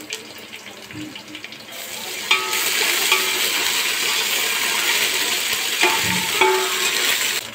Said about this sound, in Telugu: పచ్చిమిర్చి ఒక 4-5 పచ్చిమిర్చి వేసుకోవాలి. ఇక్కడ మంచి కలర్ వచ్చేంత వరకు వేయించుకోవాలి.